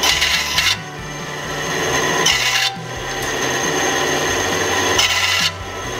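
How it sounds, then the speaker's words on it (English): Bandsaw cutting a 3/8 inch wooden dowel for a farmhouse table, a steady close motor hum with three or four short rasping bursts as the blade passes through the wood. "I'm just using the bandsaw. Cut it about 1/4 inch."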